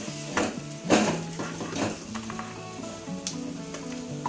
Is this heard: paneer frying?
yes